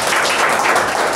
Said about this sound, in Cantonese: 掌聲好唔好啊？